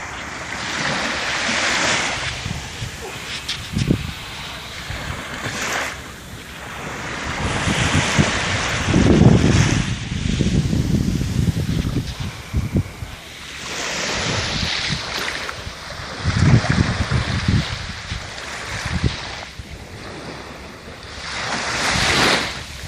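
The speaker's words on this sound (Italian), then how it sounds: "e qua c'è il mare d'inverno, la playa di Catania." Sea waves wash onto the winter beach at Catania, surging and receding in slow swells while gusts of wind buffet the microphone.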